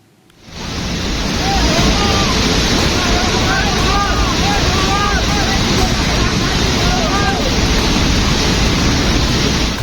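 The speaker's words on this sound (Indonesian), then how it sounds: "Banjir lahar dingin Gunung Merapi menerjang aliran Sungai Senowo, Magelang, Jawa Tengah." Cold lahar flood from Mount Merapi surging down the Senowo River in Magelang, Central Java, a loud, continuous broadband roar of rushing water and debris that holds steady throughout.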